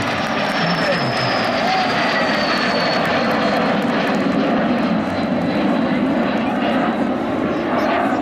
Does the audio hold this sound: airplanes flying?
yes